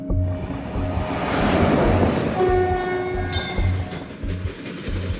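Passenger train travelling toward Coimbatore on a long overnight journey. Steady loud rumble of wheels on rail with rhythmic low clatter from the carriage, a wash of wind noise, and faint high tonal whines that could be a distant horn.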